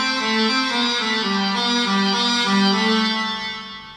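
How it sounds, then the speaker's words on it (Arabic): Keyboard set to a rababa voice plays a bowed-string-like melody with steady sustained gliding notes, alone and clear. "استخدم هذا صوت الربابي"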